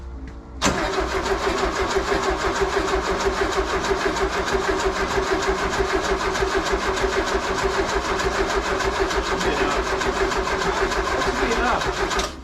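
An engine cranks continuously after a sudden start, a steady loud rhythmic churning that goes on for about twelve seconds without catching.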